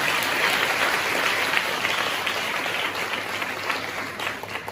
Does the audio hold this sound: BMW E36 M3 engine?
no